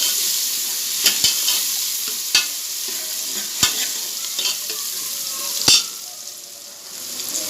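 Two spoons of garlic ginger paste frying in a pan for mung and masoor dal, with a loud continuous sizzle close by and occasional sharp clicks of a spoon stirring against the pan.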